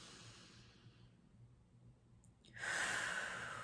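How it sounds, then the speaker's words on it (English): A slow, deep inhale during a guided heart-and-womb breathing meditation: a quiet, airy breath that swells into a louder, close rush of air near the end, with no talking. "Closing your eyes and taking a nice deep breath in."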